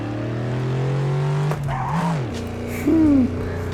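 Racing-wheel video game car launching in first gear: engine tones rise and drop with brief tire squeal and skidding, loud and close, with a sudden surge near the end.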